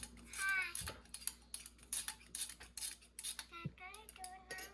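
Utensil clinking and scraping against a jar while stirring sourdough starter, a series of light, close metallic taps and scrapes at an uneven rhythm, with faint voices in the background.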